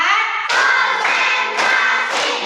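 A classroom group clapping in rhythm for a ready-to-learn chant, four loud, evenly spaced group claps with voices chanting over them.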